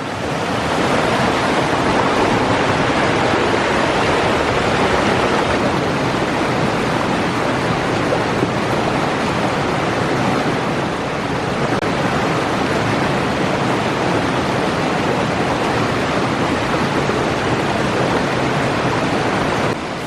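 Water rushing out of the hills in a Laurel Highlands stream, a loud, unbroken broadband hiss and roar of flowing water with no voices.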